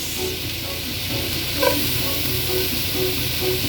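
Onion sizzles steadily in a pan while pancit is cooked, with a constant frying hiss, occasional stirring clinks and faint background noise.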